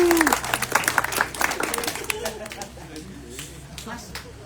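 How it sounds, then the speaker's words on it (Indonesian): A church congregation breaks into dense clapping that is loud at first and then thins out and fades over a few seconds, with voices mixed in. "Tepuk tangan untuk kita semua."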